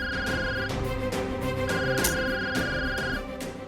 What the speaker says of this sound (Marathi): संकेत का सारखा फोन करतो?